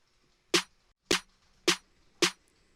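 An unprocessed snare drum from an Ableton bass drop hits four times at an even pace, each a sharp dry crack that decays quickly, alone against near silence.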